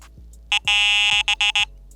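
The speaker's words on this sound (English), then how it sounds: "I had it all the way turned back to a low tone" An electronic fishing bite alarm, a Wolf Icon Q set to low tone, beeps in a rapid series: a short beep, one long sustained tone, then four quick beeps, loud and close.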